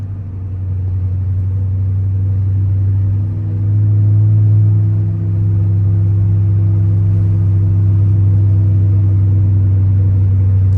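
A modified Chrysler 300C engine idles with a deep, steady rumble, swelling briefly in a mild rev while warming the tires, loud and close with no talk.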